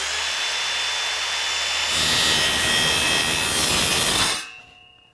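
A hand saw rasps steadily through wood, the scraping growing louder midway before stopping abruptly, leaving a quiet tail.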